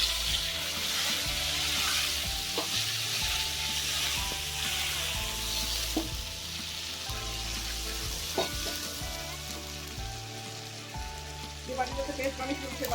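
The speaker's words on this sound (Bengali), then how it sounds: "মশলাটা খুব ভালো মতো 1-2 মিনিট ধরে কষিয়ে নিচ্ছি।" Spice paste of cumin, coriander, dried chilli and ginger frying in hot oil with whole garam masala and bay leaves for potato curry, a steady close sizzle with occasional stirring clinks.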